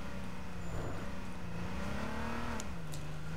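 A car engine in the H1Z1 video game drones steadily with a slight rise and fall in pitch, close and continuous, with small clicks near the end and no speech.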